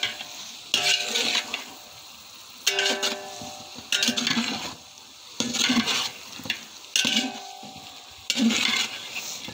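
A large pot of mahaprasad pulao, about 10 kilograms, is stirred and sautéed in bursts: scraping, sizzling strokes come every second or two, separated by quieter gaps of low background hiss.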